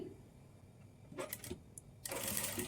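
A sewing machine runs in short bursts while stitching piping onto a Madubala-style blouse, with a brief run followed by a louder, steadier stretch of stitching near the end.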